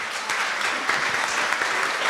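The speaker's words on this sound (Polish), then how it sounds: "Myślę, że ogromne brawa." Warm applause from a crowd at a culinary heritage cooking contest, dense and sustained clapping from many people close by, filling the full two seconds without a break.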